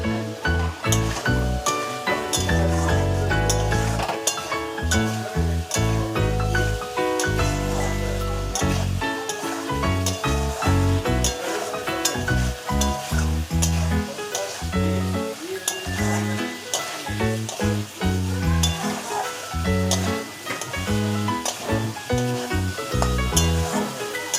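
Boiled, drained chickpeas tipped into a hot pan for ghugni, giving a continuous close sizzle and frying crackle with spoon clinks and stirring, no voices.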